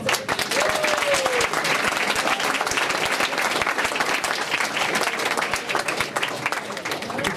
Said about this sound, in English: I would like to thank and give another round of applause to Dr.